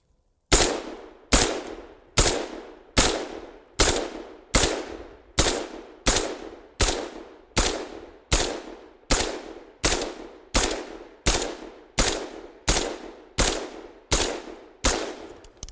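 A firearm fires about twenty shots at targets in an even, deliberate rhythm, each report loud and sharp with a ringing decay before the next, heard close and alone.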